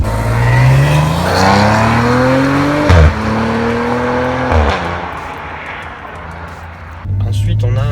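A Maserati Ghibli S Q4 with a V6 engine revs hard through rising gear pulls, its engine note climbing and dropping at shifts, loud and close from inside the car, while someone talks over it.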